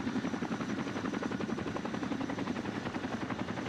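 A Chinook helicopter in the video game Arma 2 gives off a steady, rapid rotor thumping, a loud, continuous pulsing chop with no talk.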